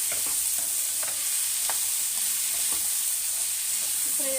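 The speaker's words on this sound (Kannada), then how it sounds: "ಫ್ರೈ ಮಾಡ್ಕೊತೀನಿ." Onion and tomato frying in a pan, a steady hiss of oil with soft, scattered scrapes and clicks of stirring throughout, close and continuous with no voices.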